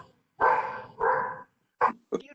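A dog barks four times during a virtual township environmental commission meeting: two long, loud barks followed by two shorter, sharper ones, close to the microphone with quiet gaps between them.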